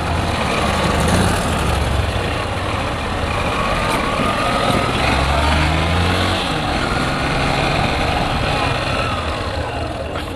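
Busy city street traffic in Barbacena, passed while riding a motorcycle: a steady, dense roar of engines and trucks with passing vehicles close by, continuous throughout with no talk.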